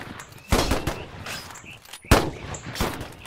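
Rapid, sharp gunfire bursts from the WW1 video game Holdfast, with two strong close shots standing out among scattered crackling rifle reports over a busy battle din.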